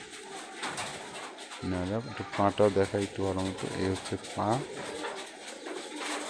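Local high flyer pigeons in Rajshahi coo in a series of soft rolling calls, close by, while someone talks over and between them.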